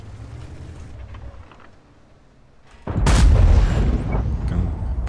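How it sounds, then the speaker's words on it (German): Tank gun firing in World of Tanks, an Obj. 780 battle: a sudden heavy boom at about three seconds that rolls into a loud, sustained rumble over quieter game ambience. "Er wird gleich schießen."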